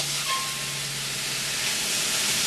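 Ground turkey browning in a pot for chili, a steady broad sizzle and hiss held evenly at close range without pause or voices.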